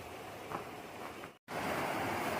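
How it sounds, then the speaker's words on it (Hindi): A mountain river flows nearby with a continuous soft rushing murmur that cuts out for a moment and then resumes. "नदी की कलकल ध्वनि।"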